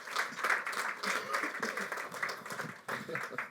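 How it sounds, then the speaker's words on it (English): Warm round of applause from a conference audience at an investment industry event, many hands clapping steadily at moderate volume with a short dip near the end, no speech. "So a warm round of applause"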